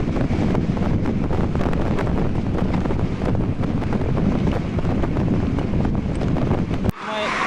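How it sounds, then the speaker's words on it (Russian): Loud, constant wind roars and buffets the microphone while cycling on a highway for several seconds, broadband and unbroken, cutting off abruptly near the end. "но ветер, конечно, адский"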